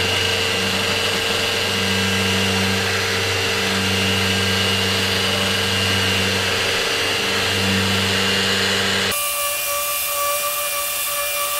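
A power sander drones loudly and steadily up close on a garage door with 150-grit paper, then cuts off abruptly, leaving a fainter mechanical hum.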